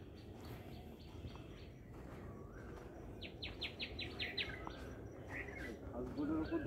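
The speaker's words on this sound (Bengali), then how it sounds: "আর এত সুন্দর পাখির ডাক শোনা যাচ্ছে।" Birds call at the Chintamani Kar Bird Sanctuary, with a short run of faint, quick chirps rising over a steady outdoor background hum and a possible low murmur of voices.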